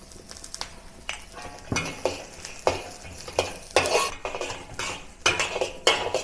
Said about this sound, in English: with a little bit of oil, now I saute the garlic. Along with the broccoli stem.